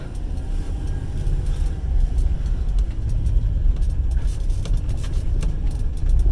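A car engine revs steadily while in reverse with a slipping transmission, a loud continuous low drone holding throughout with slight rises and no speech.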